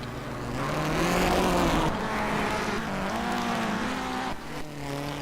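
Rally cars racing at the NASA RallyCross Island Rally, with a loud engine revving and shifting through the gears as it passes close by. A steady roar rises and falls and tires scrabble on the surface.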